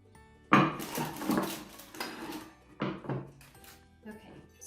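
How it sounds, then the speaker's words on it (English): Kitchenware clatters and knocks as a chopping board and dishes are handled, in a few distinct bursts, close and fairly loud. "I need my chopping board again."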